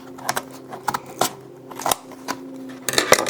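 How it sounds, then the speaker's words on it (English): Scissors snipping open the tight plastic packaging of a small 2x2 puzzle cube, a string of sharp separate cuts and crinkles at close range with no talking. "I'm just gonna pull out the scissors."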